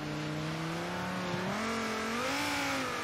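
A car in Forza Horizon 3 accelerates hard, its engine note climbing steadily in pitch as it revs through a gear, loud and close with a continuous droning whine and no talk.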